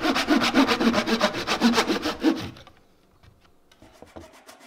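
A file or rasp works the end of an oak base by hand, rounding it over in quick, regular rubbing strokes for about two and a half seconds before it stops, leaving faint handling sounds.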